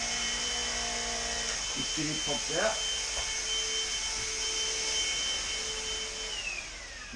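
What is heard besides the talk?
vacuum cleaner running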